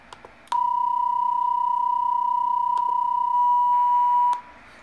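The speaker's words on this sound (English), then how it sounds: "is value in hearing the transmitted signal, the digital signal" Steady single digital-mode transmit tone from FLDIGI, played through a speaker fed by a Y cable from a Yaesu FT-817 setup, holding for about four seconds at even loudness before cutting off, with a few faint clicks around it.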